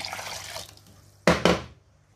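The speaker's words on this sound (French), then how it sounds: "Ma pâte étant trop lourde, je vais rajouter un peu d'eau" Water is poured into cooking kenkey dough, a soft running trickle fading out, then two sharp, close splashy bursts as the liquid lands, with no talk.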